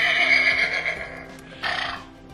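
A horse neigh from the sound patch of a farm-animal touch-and-feel board book, a loud electronic whinny that rises and trembles, then a second shorter burst near the end, with no talking.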